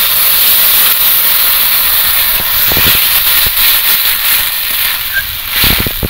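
Water and small mourala fish hit a hot pan for a sour raw-mango fish curry, a loud steady hiss of steam and sizzling running throughout, close and continuous, with no talking.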